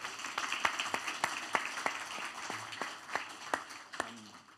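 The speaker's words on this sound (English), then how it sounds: "Round of applause," Scattered audience clapping after a conference talk on Bitcoin, a modest group with distinct individual claps, moderately close and fairly quiet.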